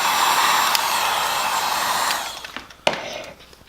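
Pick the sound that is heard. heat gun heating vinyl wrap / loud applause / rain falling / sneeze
heat gun heating vinyl wrap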